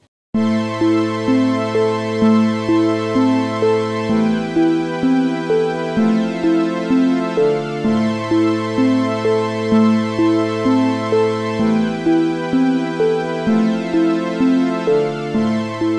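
A BandLab beat loops steadily and loudly, with sustained synth chords and a deep bass shifting every couple of seconds beneath a repeating melody that stays the same throughout, with no voices.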